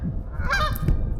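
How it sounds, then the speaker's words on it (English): A pair of geese at a garden pond give a short burst of honking, a couple of nasal calls at moderate distance over faint outdoor background noise. "it's just always 2 geese"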